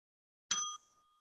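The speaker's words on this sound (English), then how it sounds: "you will hear a bell sound like this." A single bright electronic bell chime rings out once during an online Zoom public hearing, a clean ding whose tone rings on and fades over about a second against silence.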